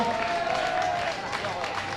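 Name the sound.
applause for triathlon finishers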